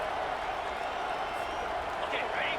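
Stadium crowd in a college football game between Oregon State and LSU at LSU roars as a steady, loud wash of cheering and noise, with a commentator speaking over it.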